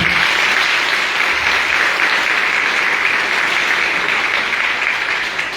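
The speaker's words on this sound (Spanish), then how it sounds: "Mandémosle un aplauso al cielo a Sor Ernestina." Loud, steady applause from a congregation fills a church, sustained clapping that stays even throughout before easing slightly at the end.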